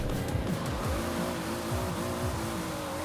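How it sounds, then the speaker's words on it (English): A 1600-horsepower Toyota Supra in Forza Horizon 4 launches hard with wheel spin, its engine roaring steadily and revving up through the gears, loud and continuous with no voices over it. "But the wheel spin's gonna get us like the whole entire way."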